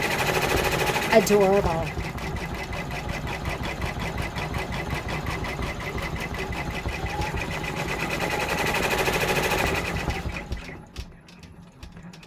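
A multineedle embroidery machine stitches out a freestanding haunted village bridge design, its rapid, steady mechanical chatter running without a break close by, while a voice briefly says a single word over it.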